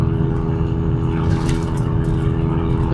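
A Ford Mustang drift car cruising on the road with fresh brake lines, its engine droning steadily and loud from inside the cabin, a continuous low rumble with faint road noise and no talking.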